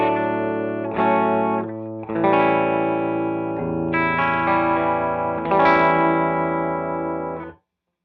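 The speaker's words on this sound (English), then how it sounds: "This is just the amp and guitar" Clean electric guitar chords ring out through an amplifier, several sustained strums changing every second or two before stopping abruptly.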